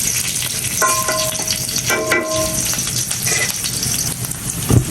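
Onions and chilies sizzle and fry steadily in hot oil, a continuous close crackle with occasional stirring scrapes and brief clinks throughout.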